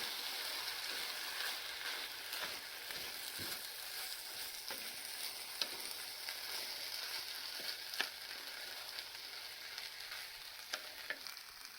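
Tomatoes fry in a pan on a stovetop set to medium heat as part of a Macedonian rice and chicken dish, giving a steady, close sizzle with scattered crackles and pops and occasional stirring clicks, with no voices over it.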